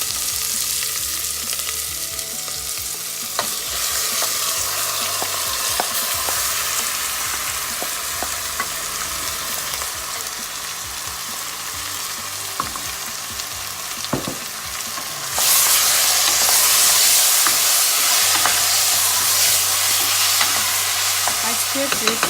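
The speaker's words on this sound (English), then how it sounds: "I took the marinated liver and added to it." Marinated lamb liver frying in a pan with spices, a constant close sizzle broken by spatula scrapes, growing louder and harsher for the last several seconds; no talking.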